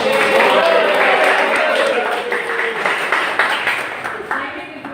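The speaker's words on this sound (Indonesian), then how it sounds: "Sampai tepuk tangan." Classroom applause, a dense, loud burst of clapping from a group of students that gradually thins and fades over several seconds, with voices mixed in.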